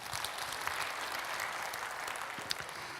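A church congregation breaks into steady, sustained applause, many hands clapping at a distance in a dense, even patter for a few seconds, with no voices over it.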